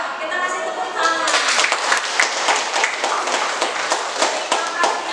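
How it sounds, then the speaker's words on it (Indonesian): A classroom audience claps together for a few seconds, dense steady applause of many hands over a murmur of voices, starting a little thin and filling out quickly. "Kita kasih tepuk tangan."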